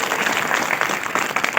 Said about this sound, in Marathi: सर्वांसाठी एकदा आपण जोरात टाळ्या वाजवून त्यांचं स्वागत करू